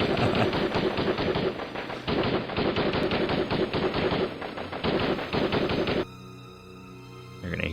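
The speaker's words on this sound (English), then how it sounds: "Sound of sporadic gunfire from below." Rapid bursts of gunfire from Broken Sword 2 crackle loudly in dense repeated volleys separated by brief pauses, fading to a quieter ringing tail at the end.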